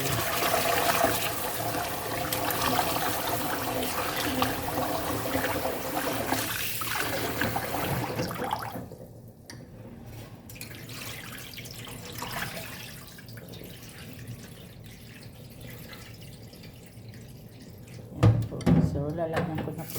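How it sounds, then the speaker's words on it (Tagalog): Tap water runs steadily into a cooking pot in a home kitchen, a loud continuous gush that stops partway, followed by quieter clinks and handling. "lalagyan ko na po siya ng tubig"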